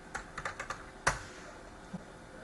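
Fingers type a command on a computer keyboard, producing a quick run of light close clicks, then one sharp louder keystroke like an Enter press, and a final soft tap in a quiet room.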